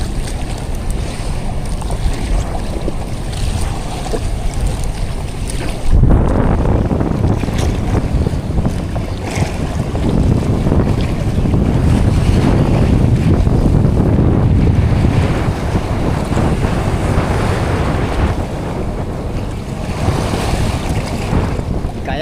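A strong amihan wind buffets a small fishing boat at sea, loud roaring gusts and rushing waves with heavy wind noise on the microphone, building after a few seconds and sustained throughout.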